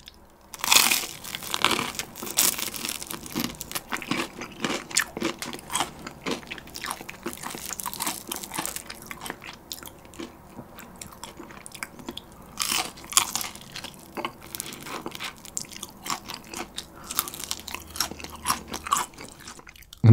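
Someone eats crispy Kyochon rice-coated fried chicken wings, with steady close crunching and chewing bites that come in irregular bursts for about twenty seconds and no talking.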